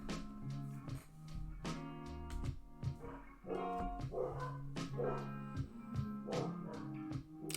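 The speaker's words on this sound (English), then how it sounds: "Apologies if you can hear my dogs there." Household dogs bark and yip repeatedly in bursts, fairly close and loud, with whines between barks and no talk over them.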